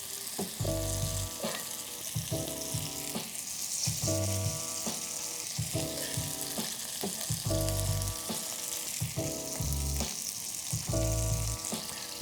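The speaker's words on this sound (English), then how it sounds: "what we want to do is we want to blister the tomatoes and release all that liquid" Tomatoes blistering in a hot frying pan, giving a loud, continuous close sizzle and crackle, with repeated tonal metallic pan sounds recurring roughly every second and a half throughout.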